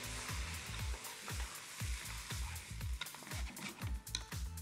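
Wine hits a hot pot while making artichoke velouté soup, sizzling and bubbling in a pulsing rhythm with repeated low thuds, close and fairly loud, no talking.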